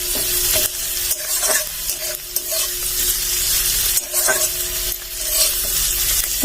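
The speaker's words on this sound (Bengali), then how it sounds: "একটু ভালো করে ভেজে নেব" Sliced green chillies and onions sizzle steadily in a hot pan, with a spatula stirring and scraping in a few loud strokes throughout, no talking.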